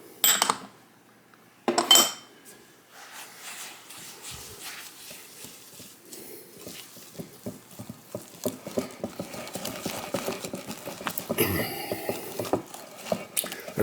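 Cornmeal and flour stirred into chess pie batter in a mixing bowl, a steady run of close scraping and tapping of utensil against bowl that grows busier and louder, with a few sharper knocks.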